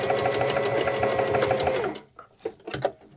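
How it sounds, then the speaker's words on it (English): A sewing machine runs steadily with a rapid mechanical whir, then stops, leaving a few soft clicks and handling noises. "So we're going to go do that at our sewing machine"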